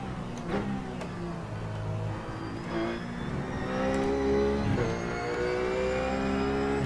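Race car engine held on the throttle in a racing simulator, a steady droning roar with rising and falling pitch and faint whine, continuous and fairly close with no talk.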